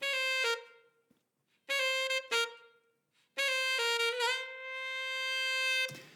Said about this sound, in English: if you listen to the saxophone with DRes bypassed, it sounds like this.